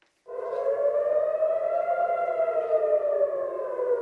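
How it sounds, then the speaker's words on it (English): An air raid siren wails across Tel Aviv, a loud sustained tone that starts abruptly after a brief silence and holds steady, alone with no talk. "Sirens rang out, shattering the morning peace and scattering the birds into the sky across Tel Aviv"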